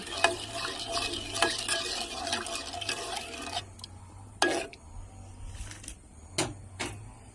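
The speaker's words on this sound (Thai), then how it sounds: "ใส่น้ำตาลทรายลงไปค่ะ ถ้าไม่ชอบหวานก็ไม่ต้องใส่เยอะ ประมาณเนี้ยค่ะ คนให้ละลายค่ะ" Sugar is stirred until it dissolves for a coffee coconut jelly dessert. A spoon scrapes and swirls in a steady rhythm against a faint background hum, then gives way to sparser knocks and taps against the pot.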